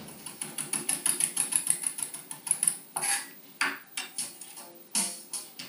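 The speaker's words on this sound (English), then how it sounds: "the last thing for me to do is to chop some fresh dill that I'll add to the sauce" A knife chops fresh dill on a board in a quick, even run of sharp taps, then slows into a few spaced, heavier cuts near the end, close and clear with no talk.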